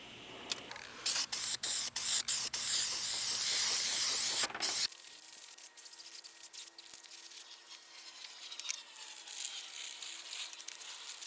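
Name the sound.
spray painting primer and black paint on corroded metal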